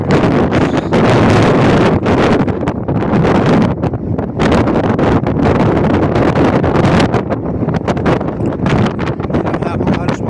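Strong gusts buffet the microphone outdoors near Sydney Harbour by the Botanic Garden, a loud continuous roar with rumbling bursts, while a voice speaks faintly beneath it.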